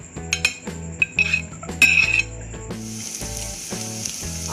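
Onions softening in a spoonful of oil in a pan for samosa filling, a close sizzle with clinks and scrapes of a spoon against the pan, growing into a steady hiss toward the end, no voices.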